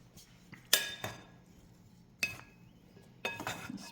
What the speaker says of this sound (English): a spoon and just mix this around